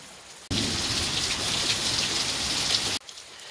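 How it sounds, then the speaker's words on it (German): Steady, dense rainfall in Stade, Germany, pattering and splashing on surfaces, a loud continuous hiss that starts abruptly and stops just as suddenly. "es regnet immer noch"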